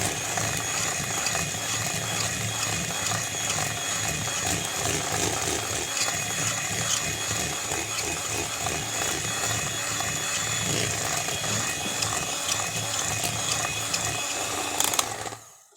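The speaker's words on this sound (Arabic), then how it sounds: "انا كده ضربت الكريم اهو" An electric mixer whips cream in a home kitchen with a continuous close whirring motor drone and a rattling buzz, steady for about fifteen seconds before cutting off abruptly at the end.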